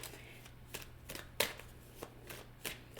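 Tarot cards are shuffled and drawn by hand in a series of soft riffling bursts with one sharper slap midway, quiet and close, no talk.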